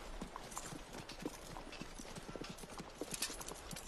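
Hooves of Civil War cavalry horses clip-clop steadily through a town street, a dense overlapping patter of many horses at close range, with faint murmuring voices in the background.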